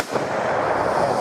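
Single hunting rifle shot fired downrange at a steel target outdoors, a loud sharp report with a lingering roll-off filling the moment.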